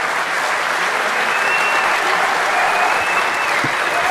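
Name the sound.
audience applause at DEF CON closing ceremony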